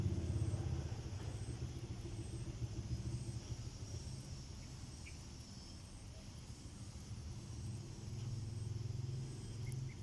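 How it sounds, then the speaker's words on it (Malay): A motorcycle engine rumbles past in the distance, a low steady drone that swells and fades and swells again, with faint background hum. "Saat ada motor lalu,"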